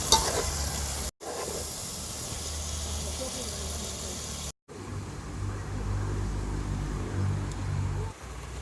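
Prawns and chopped vegetables sauté in a pan for a village-style prawn head gravy, giving a steady close sizzle and hiss, interrupted by two abrupt brief cuts, with a voice in places.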